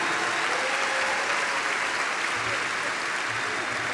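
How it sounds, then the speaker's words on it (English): Sustained applause from a graduation ceremony crowd, a dense, steady wash of clapping at moderate level with no break, while a voice may murmur faintly beneath it. "Please give them a round of applause."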